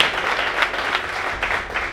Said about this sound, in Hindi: सर के लिए आप जोरदार तालियां बजाएं